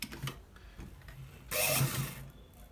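A sewing machine runs in one short burst while stitching a shirt collar to the lower part of the shirt, with quiet ticking and handling before it.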